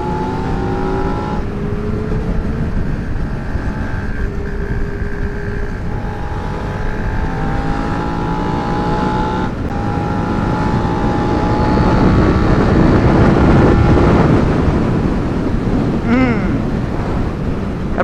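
Suzuki SV650 motorcycle cruising on a highway, engine drone mixed with heavy wind buffeting the microphone and passing traffic, loud and continuous throughout, rising slightly in intensity toward the end.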